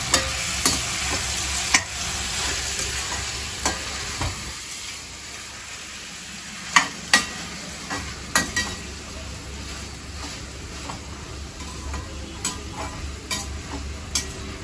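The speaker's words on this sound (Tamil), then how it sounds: "கத்திரிக்காய் போட்டு கொஞ்சம் வதங்கணும்னா சென்னாங்குண்ணியை போட்டுக்கணும்" Brinjal (eggplant) sautéing in oil in a pan, a constant close sizzle broken by sharp scraping clicks of a spoon stirring at irregular intervals, with no voices.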